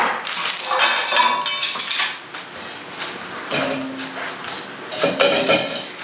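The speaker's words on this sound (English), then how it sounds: "You can use a pizza roller, or I just make it flat by using my spoon." A metal spoon presses and scrapes buckwheat pizza dough flat in a pan, giving close, irregular clinks and scraping strokes with brief pauses between them.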